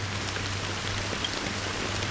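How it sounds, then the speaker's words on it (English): Steady rain falling in the Honkai Star Rail video game, an even, continuous hiss of drops on surfaces with a low constant hum beneath, no speech. "How long has this rain been ongoing?"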